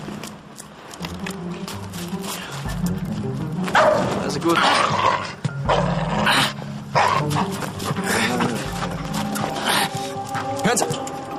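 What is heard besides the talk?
dog barking and growling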